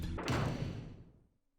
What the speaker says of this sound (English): The thing they heard from the basement was definitely the sound of a door closing.